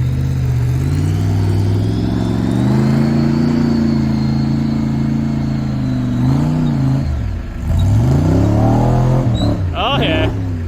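A car's engine revs hard in first gear, a loud sustained drone that climbs and dips in pitch, with a person speaking briefly near the end.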